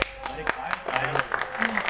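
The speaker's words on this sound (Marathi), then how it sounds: "काय टाळ्या पडल्या दादा." Audience applause at a Keshavsut memorial ceremony in Bhadgaon, a dense patter of clapping with sharp individual claps, mixed with voices and a speaker talking over it.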